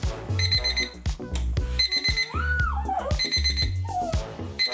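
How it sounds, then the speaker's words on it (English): A Ruggie, an alarm clock built into a bath-mat-sized rug, rings out with a loud repeating electronic alarm pattern of bright beeping tones and sweeping chirps, heard clearly with no talking. "The Ruggie's the size of a bath mat with different alarms and volume levels."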